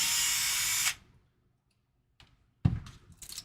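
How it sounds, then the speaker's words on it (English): An RC crawler steering servo whirs steadily for under a second as it centers, then falls silent before a few short clicks and rustling bursts close by. "We're going to do the exciting process of centering a servo."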